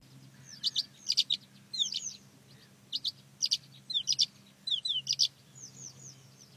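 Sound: skylark singing

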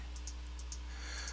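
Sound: computer mouse clicking

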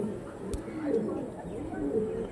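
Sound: pigeons cooing

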